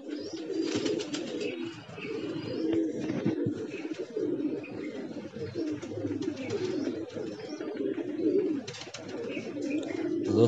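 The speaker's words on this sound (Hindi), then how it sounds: "तो ये वो कबूतर है।" Soft cooing and rustling of a homing pigeon close by, a continuous low murmur of coos and bird sounds without speech.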